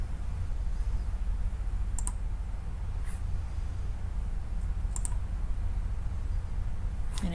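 A computer mouse gives a few sparse, sharp clicks during Onshape CAD modeling, set apart by several seconds over a low steady hum.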